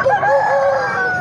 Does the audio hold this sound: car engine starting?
no